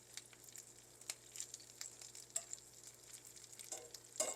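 ALDI food cooks in a pan, a faint, steady sizzle and fry with light crackles, small pops and occasional stirring scrapes, with no voices.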